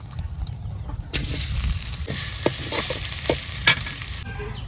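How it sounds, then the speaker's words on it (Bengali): Hot oil crackles and then bursts into a loud sizzle as chopped onions drop in, with scattered clinks of stirring through the steady frying. "পেঁয়াজ কুচি দিয়ে দিলাম"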